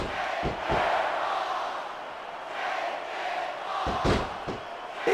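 Broad, steady roar of an arena crowd cheering in a wrestling video game, loud and continuous, with a few sharp thuds and slams punctuating it near the start and end.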